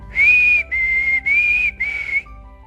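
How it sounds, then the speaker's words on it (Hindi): Person whistling a tune behind bushes away from a Ramleela stage, four clear sustained whistled notes with short gaps, close and loud. "अंजीपाल ने सीटी बजाते हुए"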